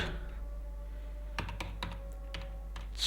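Crisp key clicks from a computer keyboard while a Google Maps review is typed, coming in quick irregular bursts of taps, close and fairly quiet over a steady low hum.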